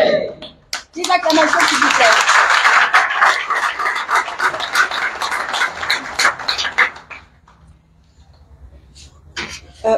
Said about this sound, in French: Des acclamations, s'il vous plaît.